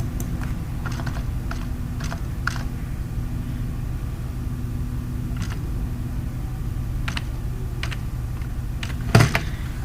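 Typing on a computer keyboard: sparse clicking keystrokes, some in short clusters, sound close by over a steady low hum, with a slightly louder knock near the end.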